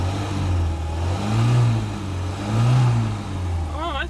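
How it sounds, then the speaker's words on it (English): Peugeot 2.0 XN1A engine with Shell Helix HX7 10W-40 oil revving up twice from idle, the pitch rising and falling in two swells, fairly close and steady, with a brief high whine near the end. "So I think I should be able to rev it now."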